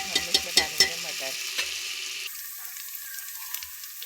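Peas tipped into very hot oil, starting with a few sharp knocks and clatters, then a steady hissing sizzle that continues alone at moderate loudness.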